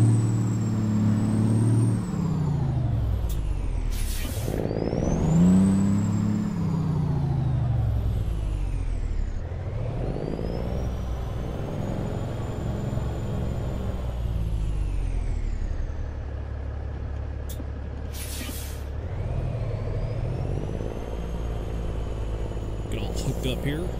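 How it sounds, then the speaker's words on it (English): Cummins N14-600 chipped truck engine in American Truck Simulator, a loud steady diesel drone rising and falling with revs through gear changes, with two sharp air-brake hisses along the way. "Using the N14-600 chipped engine sound, probably my favorite engine sound."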